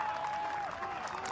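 Golf gallery at a Ryder Cup-style team match in Europe applauding steadily, a continuous wash of clapping from a sizeable crowd with a faint tonal whistle or cheer running through it.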